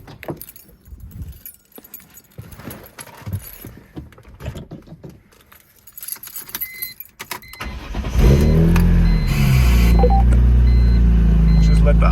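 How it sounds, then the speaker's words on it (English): Keys jangle and a few light clicks come first, then a BMW E46 M3 fitted with new coils and spark plugs cranks and fires, settling into a loud, steady idle close by. "I would suggest giving the car a start to see if it's running good"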